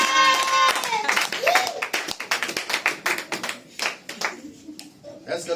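A church congregation claps for Jesus, close, uneven hand claps that come in a quick ragged run after a shout, with voices mixed in among the clapping.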